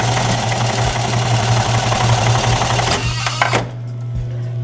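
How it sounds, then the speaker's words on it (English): An old keyhole buttonhole machine of an 1882-patented design stitching jeans makes a loud, steady, rapid mechanical whirring that runs for several seconds, then winds down and stops with a few clunks near the end. "Right next door to us is the buttonhole machine."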